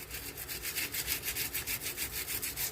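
Cheap Dollar Tree sandpaper is rubbed back and forth over a part of a 1960s two-cycle boat motor in fast, even rasping strokes, about five per second, close and steady, with no talk.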